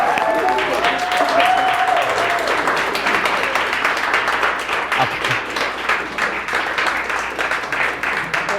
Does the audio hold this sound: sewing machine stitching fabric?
no